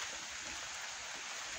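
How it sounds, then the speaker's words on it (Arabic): Rain falling outdoors in a garden in Salé, a soft continuous hiss of drops, fairly faint and steady, with no voices. "شوفوا الشتا هابطه وهابطه علينا"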